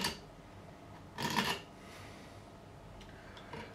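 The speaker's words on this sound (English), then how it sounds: "all we're going to do is just scrape any old nut away that's stayed in there" Brief, close rasping scrape of a tool clearing old glue from the nut slot of an Ibanez Roadstar II RG200 guitar neck, one strong burst and a few faint scratches in a quiet room.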